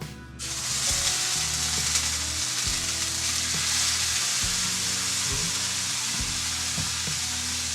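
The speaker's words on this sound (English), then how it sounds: "So me and Will both cook our backstrap about the same way. So we'll go ahead and do a sear." Backstrap venison searing in a hot pan, starting with a sudden onset of loud, steady sizzling that continues alone with faint low knocks and shifting underneath.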